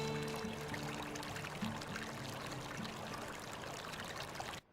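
Wheat grains pour into a river in a steady, rushing stream that runs for nearly five seconds at an even, fairly close level. A faint low hum sits under it before the sound stops suddenly.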